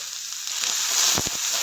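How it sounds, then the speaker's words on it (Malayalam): Small shallots sizzle in oil already used for frying fish, a steady moderate frying hiss with a few sharper crackles and pops toward the end. "ഇനി നമ്മൾ വറുത്ത് കോരി മാറ്റിയ അതേ എണ്ണയിലേക്ക് തന്നെ നമ്മുടെ ചെറിയുള്ളി ചേർത്ത് കൊടുക്കാം."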